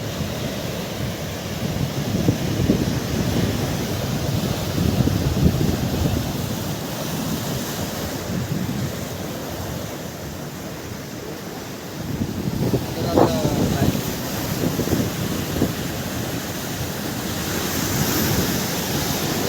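Waves surge and crash continuously against rocks at night during shore fishing, with heavy wind rumble on the microphone and a brief splash near the middle.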